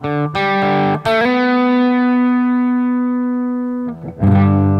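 Distorted electric guitar plays a few sustained chords, one ringing out long before a new strum near the end.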